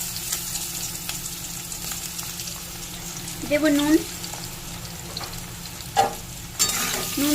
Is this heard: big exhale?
no